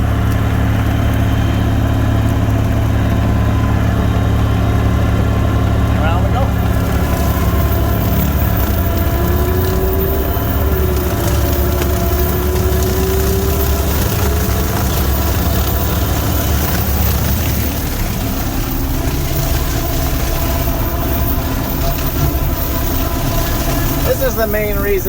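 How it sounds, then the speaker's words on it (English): A rented mower running at 1,000 PTO cuts down cattails in snowy conditions, its engine droning loud and steady for the whole stretch while someone talks over it. "This is the main reason why I rented the mower, is to mow down these cattails."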